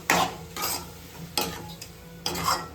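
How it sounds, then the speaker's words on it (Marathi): Chilli and Schezwan sauce being stirred into homemade chicken noodles, a few separate scraping stirs with a utensil against the pan and a faint sizzle underneath, close by with no talking. "आता हे छानपैकी आपण मिक्स करून घेऊया."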